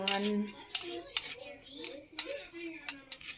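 A metal spoon scrapes and taps against a sieve and pot while whole spices are strained out of cooked paaya trotter broth, a series of light irregular clinks, close and quiet.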